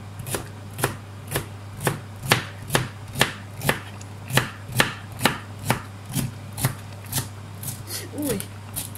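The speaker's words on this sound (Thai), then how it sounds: "ช่ายฝรั่งนะคะเราจะหั่นใส่ไปด้วยเนาะ" Celery is chopped with a knife on a board for a Thai black mushroom soup with glass noodles: about twenty crisp, evenly spaced thuds, loud and close, over a steady low hum.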